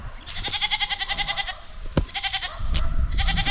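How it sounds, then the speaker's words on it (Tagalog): A goat bleats close by in a rural farm setting, giving several long, wavering, nasal calls separated by short pauses, with a sharp knock and some background noise in between. "Taba na yung kambing namin mga kaprobinsya"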